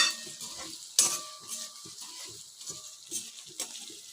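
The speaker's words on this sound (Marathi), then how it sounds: "बघा अशी छान ढवळायची" Sabudana khichdi with potato and chilli being stirred in a pan: a series of clinking, scraping spoon strokes in an irregular rhythm, close and fairly quiet, with a soft sizzle underneath.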